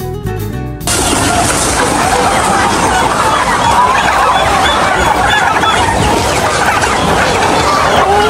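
A dense crowd of Dekalb White hens clucks and squawks continuously in a cage-free backyard pen, loud and close, with a short burst of other sound at the very start.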